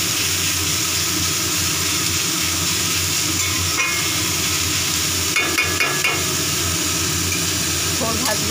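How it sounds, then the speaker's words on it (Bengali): Banana stem, rubbed with salt and turmeric and squeezed, fries in a pan with a steady, loud broadband hiss throughout, broken by a few light clinks of the utensil near the middle. "থোড় ভাজা হবে।"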